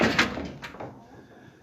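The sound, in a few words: door being opened or closed on a farm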